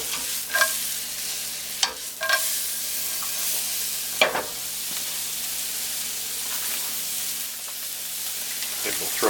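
Onions frying in butter in a pan on a stove over high heat, a steady broadband sizzle throughout with a few sharp stirring scrapes and clinks near the start and middle, no talk.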